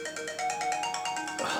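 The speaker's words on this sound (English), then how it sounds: "Oh, that's my phone. It'll have to wait." A mobile phone ringtone plays a repeating electronic melody in regular pulses, fairly faint and slightly distant indoors, with no talking over it.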